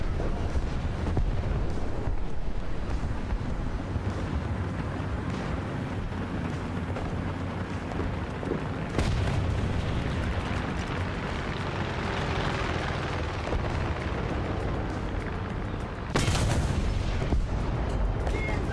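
A bomb explodes in War Thunder: a continuous rumbling battle din of engines and distant blasts, with a sharp loud burst near the end.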